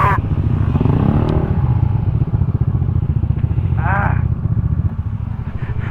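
A Honda PCX160 scooter idles and rumbles close by with a steady low engine pulse throughout, broken by a brief squeal or screech near the start and another around four seconds, with no clear talk over it.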